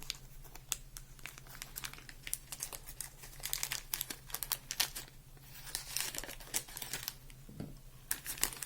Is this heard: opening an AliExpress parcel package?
yes